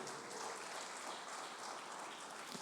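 Church congregation clapping their hands during a Portuguese-language service, a faint, steady wash of many hands clapping with no individual claps standing out.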